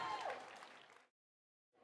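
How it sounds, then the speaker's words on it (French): Audience at a cosplay contest applauding, a broad wash of clapping with crowd noise that fades out, breaks into a short silence, then resumes faintly. "on les applaudit encore s'il vous plaît"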